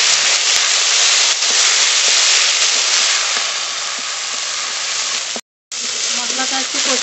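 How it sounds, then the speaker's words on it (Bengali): A paste of ground ginger, coriander, cumin and dried chili is sautéed in a hot pan for a fish curry, giving a loud, steady broadband sizzle that runs throughout and cuts out briefly near the end. "মশলাটা একটু কষিয়ে নিয়েছি"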